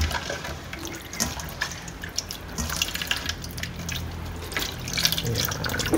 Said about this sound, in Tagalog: Coconut milk.